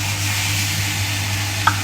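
Minced meat sizzling steadily in a hot pan for spaghetti bolognese, a continuous close frying hiss with a brief stir near the end.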